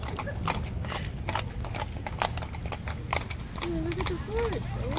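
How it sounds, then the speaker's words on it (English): Horse hooves clip-clop on a road in a winter ice-storm setting, a steady run of close, distinct hoof strikes under outdoor background noise, with people talking and chirping calls near the end. "Look at the horse."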